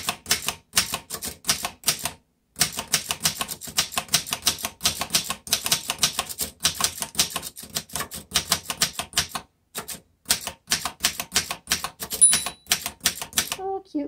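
Typing on a 1919 Corona Three vintage typewriter, with rapid bursts of sharp key clacks and brief pauses between runs, close and crisp, ending with a small carriage bell ding and light mechanism noises.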